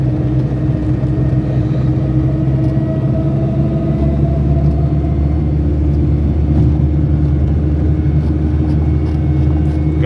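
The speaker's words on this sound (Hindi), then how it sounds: "गाड़ी के साउंड देखो कितना तेज आ रहा है, इसका मतलब गाड़ी कह रही है गियर चेंज करो" A car engine straining loud in a low gear while driving through narrow streets, a constant droning rumble with a steady hum and no change in pitch, heard close and with no talking.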